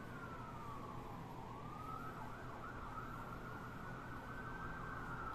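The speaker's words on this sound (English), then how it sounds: "Sirens." Emergency sirens open a K-pop music video intro, a continuous wailing tone sweeping slowly up and down, faint and steady with no voices over it.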